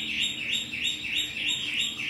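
A red-whiskered bulbul calls in a quick, repeating run of bright chirps, loud and close, about five phrases in two seconds with no talk.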